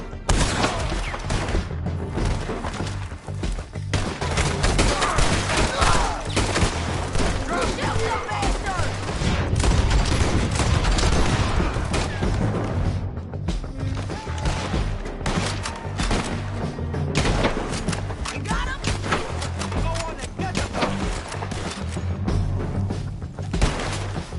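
Gunfire rattles through a Red Dead Redemption II shootout, with repeated loud shots, thuds and bursts over a busy game soundscape lasting the whole stretch.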